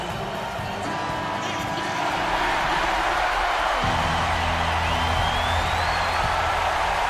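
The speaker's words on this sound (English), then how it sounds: "Crowd is on its feet at Wells Fargo Center" An arena crowd in NBA 2K15 at the Wells Fargo Center cheers in a steady, broad roar that swells slightly partway through. A faint whistle-like tone also sounds, and a voice talks briefly.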